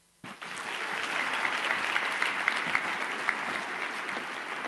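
A hall audience at a national science awards ceremony breaks into sustained applause that starts abruptly and holds steady, a broad wash of many clapping hands heard from a moderate distance.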